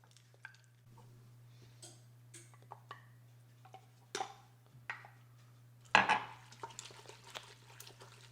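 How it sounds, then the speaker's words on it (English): Eggs being stirred in a bowl for kugel, with scattered light clinks and scrapes of a utensil against the bowl, faint and irregular, with one louder knock near the end over a steady low hum. "Give it a nice stir."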